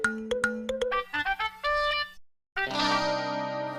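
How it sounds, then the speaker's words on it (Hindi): A phone ringtone chimes in a melodic electronic pattern of quick tones, pauses briefly, then rings again with a fuller, sustained tune, loud and close with no talking. "अरे ये बाघा फोन क्यों नहीं उठा रहा है?"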